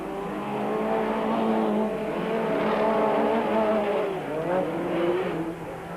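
A Ford race car roars uphill as it overtakes another car on the outside, engine note rising and shifting with steady, close, loud revving and a brief dip before climbing again.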